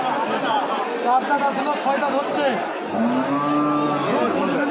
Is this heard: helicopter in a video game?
no